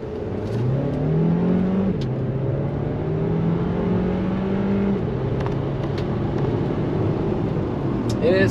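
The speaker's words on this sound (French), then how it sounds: "On va se faire une petite accélération, accrochez-vous les amis." A 2021 Jeep Renegade Hybrid pulls hard from a stop toward 100 km/h, its engine droning and rising through gear changes under a steady whir of road noise, heard from inside the cabin, with someone talking over it.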